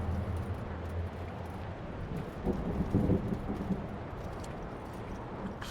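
Steady rain and wind from a storm in the game Return to Grace, with a soft rumble of thunder swelling near the middle, a constant wash without speech.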